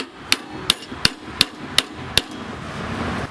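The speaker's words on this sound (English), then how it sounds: "So I'm just going to hammer it back in." Six sharp metallic hammer strikes on a riding mower deck's belt keeper ring out at a steady pace, close and loud, followed by a quiet stretch of low background noise.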